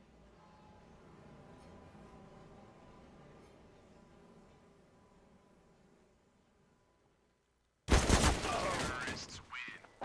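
Gunfire in a Counter-Strike match on the Overpass map during a professional qualifier, a dense burst of shots arriving abruptly near the end after a stretch of quieter background ambience.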